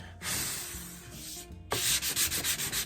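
Sandpaper of 240 grit rubs along the wooden neck of a cigar box guitar in close, steady, rasping strokes, with a brief pause before a series of quicker, pulsing passes.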